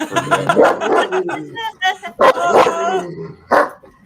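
A big dog barks and yips close by in short, excited bursts, mixed in with people talking over it.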